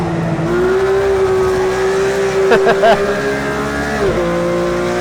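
A Porsche GT3 RS drifts in a racing video game, its engine holding a loud, steady high note through a continuous slide, with brief tire-squeal bursts and a sharp dip near the end.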